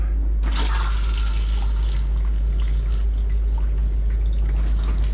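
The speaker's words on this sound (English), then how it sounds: "That little blue button back there will put water into your toilet." Water runs steadily into a cassette toilet bowl, a continuous close-up gushing and trickling flow under a constant low hum.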